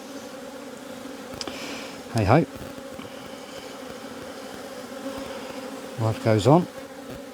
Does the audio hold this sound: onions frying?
no